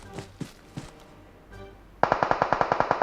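Automatic gunfire in the video game PUBG Mobile: a few scattered single shots, then a rapid, loud burst of evenly spaced rounds firing in quick succession.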